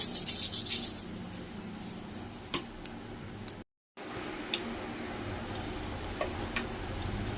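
Mustard seeds fry in hot oil in a pan, a steady sizzle spread across the whole stretch with scattered faint crackles and pops, brief louder hiss at the start, close and continuous apart from a short dropout mid-way.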